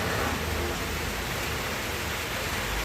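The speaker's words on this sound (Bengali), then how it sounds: "এখন দেখছি বৃষ্টি নেমেছে" Steady rain falling outside a home, a continuous broadband hiss that stays loud and even throughout with no voices, then cuts off abruptly at the end.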